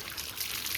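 Water runs steadily from a tap as a child bathes beneath it, a close, continuous splashing trickle with no talk.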